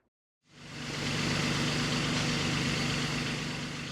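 A tractor engine runs steadily just after a clutch pedal adjustment, starting about half a second in and holding a constant, loud, broadband rumble with a low throb throughout.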